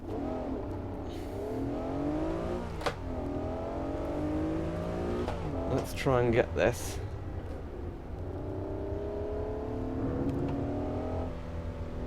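A Honda NSX engine revving around the Imola circuit in the Assetto Corsa racing game, a steady droning engine note with rising and falling pitch through gear changes, under someone talking.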